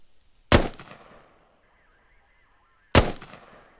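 Two sharp, loud rifle shots from an M4 fitted with an ACOG scope, fired at a target 100 meters out, spaced about two and a half seconds apart with short decaying echoes and near silence between.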